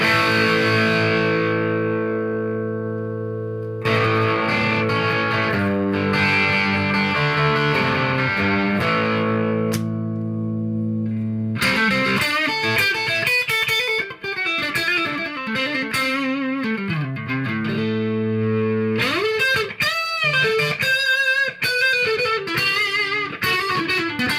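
An electric guitar plays chords and riffs through a Marshall JCM2000 DSL100 tube amp with reverb, shifting from the clean channel's ringing tones to a gritty, distorted sound partway through.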